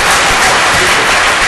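Audience applause at a mayoral debate in Elyria after a candidate's opening statement, a steady, dense wash of clapping from a crowd filling the whole moment.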